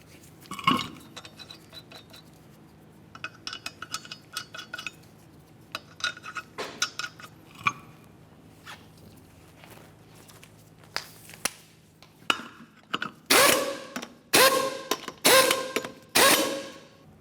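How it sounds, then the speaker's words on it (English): Lug nuts threaded by hand onto a car wheel of a 2005-2010 Chevrolet Cobalt, with scattered metallic clinks and rattles that build into several louder, faster spins and taps near the end. "We're gonna put on all 4 of our lug nuts, we'll bottom them out"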